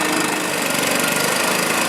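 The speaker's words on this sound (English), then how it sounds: "All right, it's been running for a while. It's all warmed up." A Stihl 4-Mix engine runs warmed up at a steady idle, a loud, continuous buzzing drone with a fast underlying pulse and no pauses.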